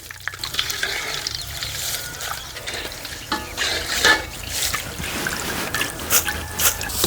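Curry leaves frying in hot oil while being stirred, a steady close sizzle with bursts of crackling and scraping stir strokes over a low background hum.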